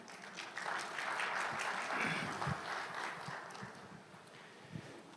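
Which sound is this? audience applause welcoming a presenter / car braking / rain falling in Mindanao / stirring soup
audience applause welcoming a presenter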